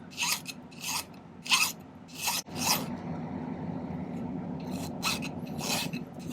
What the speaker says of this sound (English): Just file this flat.